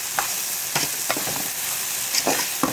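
Okra pieces tossed with salt for frying, giving a run of scraping stir strokes over a steady background hiss, fairly close and with no voices.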